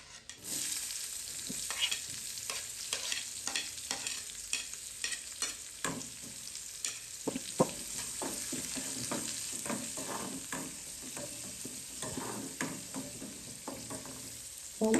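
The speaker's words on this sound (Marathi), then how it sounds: "आता कांदा टाक." Onion sizzles and fries in a pan for karela bhaji while a spoon stirs it with repeated scraping strokes over the constant soft crackle of hot oil, and no one speaks.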